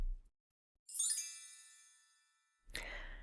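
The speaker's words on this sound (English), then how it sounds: "did you just hear that sound effect? Like the bells or something?" A bright bell chime used as a transition sound effect rings out and fades over about two seconds, with a short second jingle following after a pause; no talking.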